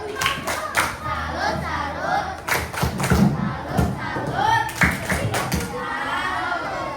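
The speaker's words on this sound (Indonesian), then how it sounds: "kasih tepuk salut untuk kedua kelompok" A classroom group claps together in loud, rhythmic bursts with some thumps and cheers, a round of applause for two student teams, with voices mixed in among the clapping.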